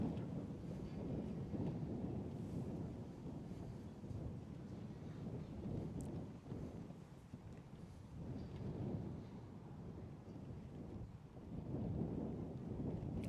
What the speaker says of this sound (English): as you can hear, it is a very windy day as well out there